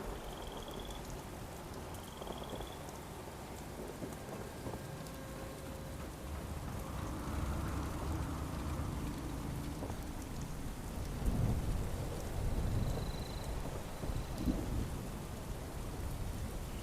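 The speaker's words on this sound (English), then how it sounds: "They did fix the rain falling through solid objects," Steady rain falling in the video game Fallout 76, with low rumbles of thunder rolling in the distance, swelling louder later, plus a few faint high chirps.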